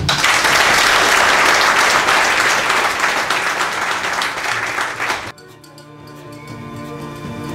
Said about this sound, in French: Applaudissez-vous.